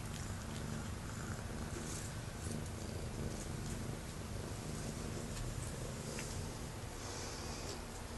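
An outdoor cat purring close up, a steady rumbling purr with rhythmic snuffly breaths that carries on without a break, and no talk.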